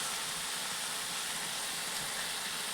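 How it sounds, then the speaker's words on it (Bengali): Chopped potatoes and green peas frying in a spice mix for a Bengali new-potato curry give a steady, soft sizzling hiss that holds evenly throughout with no voices. "তো এরপর দিয়ে দিচ্ছি কুচি করে কেটে রাখা আলু এই মশলার মধ্যে, আর দিচ্ছি মটরশুঁটি।"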